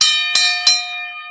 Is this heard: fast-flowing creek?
no